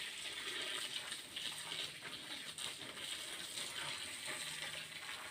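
Water pours and gushes over harvested tapioca in a basket, a steady close splashing rush lasting a few seconds with no voices.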